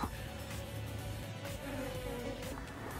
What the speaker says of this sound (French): Donc on peut bien voir, hein, frelon asiatique.